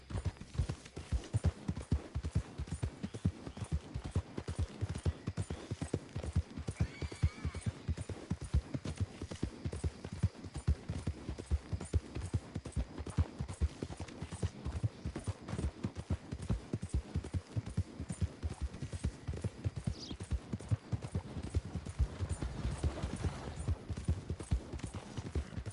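A horse gallops steadily through Red Dead Redemption 2, rapid rhythmic hoofbeats pounding close and continuous throughout, with faint background game ambience.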